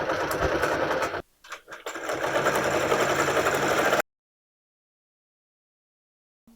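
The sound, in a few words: sewing machine basting on a placemat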